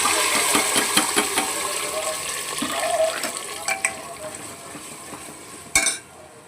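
Potatoes go into hot oil with fenugreek seeds in a home kitchen, followed by a soft sizzle, scraping and stirring, and a sharp clatter near the end; no talk.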